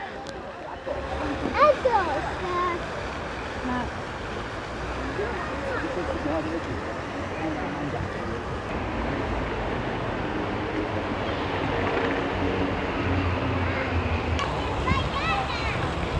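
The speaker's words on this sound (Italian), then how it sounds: "la fontana ha buttato l'acqua verso di noi" Water from a fountain sprays and splashes nearby in an outdoor setting, a continuous wash of spattering water heard under a person talking, with a few sharper splashes.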